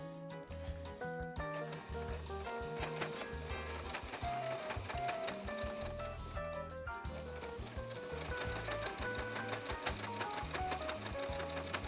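A sewing machine stitches binding onto a quilt, its needle hammering in a fast, even mechanical rhythm with brief pauses and speed changes, close and continuous without speech.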